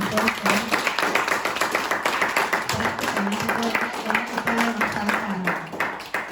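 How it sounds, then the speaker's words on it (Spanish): A conference audience claps for a doctor after his talk. Brisk, sustained clapping carries on for several seconds, close and lively, while a voice hums or calls out faintly in between. "pues démosle un aplauso al doctor"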